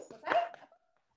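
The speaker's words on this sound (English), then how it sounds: "It's our tasting room dog for those who have not met her." Tasting room dog giving a single short bark with a brief whimpering tail, fairly close and alone, followed by quiet.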